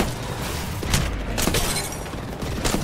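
Cannon fire during an Apex Legends match, heard as dense, noisy booming bursts and crackling impacts layered over constant game noise, with no voice present.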